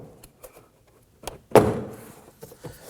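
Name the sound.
pulling car door panel off, plastic clips releasing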